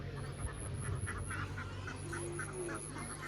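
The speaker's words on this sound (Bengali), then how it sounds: "ও হাঁসগুলো চলে যাচ্ছে তাদের গন্তব্যে তাদের বাসায়" Ducks quack faintly in a run of soft, repeated calls as they head home near a fishing spot, set against a constant outdoor background hiss.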